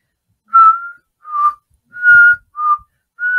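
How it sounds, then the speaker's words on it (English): A sea shanty whistled as a read-aloud part for a children's story, with five clear, close, loud whistled notes. Each is held briefly and separated by short pauses. "And she whistled a sea shanty three times."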